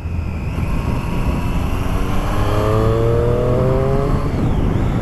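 A Triumph Street Triple S 660 motorcycle engine revs up, its rising harmonic whine climbing steadily over a loud close rumble of wind and road noise, with no voices present.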